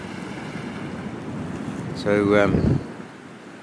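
Fresh river water rushes out into the sea at the St Lucia estuary mouth like a small rapid, a steady broad roar mixed with wind buffeting, and a person speaks briefly partway through.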